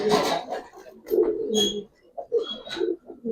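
Giribaz pigeons in a loft give repeated soft, throaty coos in uneven bursts, close and clear, with faint rustling between calls.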